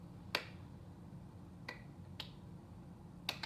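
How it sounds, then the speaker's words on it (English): A small group giving a little side clap on a sports show, four sparse, sharp, quiet claps spread unevenly over a low background hum. "A little side clap"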